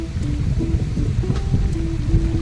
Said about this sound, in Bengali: ভালোই বৃষ্টি পড়তেছে